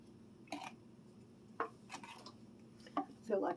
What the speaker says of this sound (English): and stir your cream